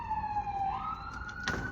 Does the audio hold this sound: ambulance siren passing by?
yes